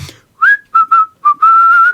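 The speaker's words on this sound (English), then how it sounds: "The boatswain whistles his instructions" A boatswain's whistle sounds shrill piping in several short blasts, then one long sustained note, loud and close with no talking.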